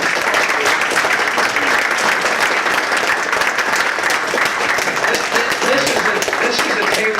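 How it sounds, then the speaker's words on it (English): Convention audience giving a panel a warm hand, loud sustained clapping with a few sharp individual claps, continuous from start to finish with no pause. "I think we should give these panelists a real hand of applause"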